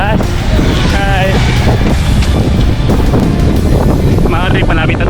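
Wind buffets the microphone loudly and constantly during a seaside road run, with a voice and brief chirpy sounds over the rough, dense rush.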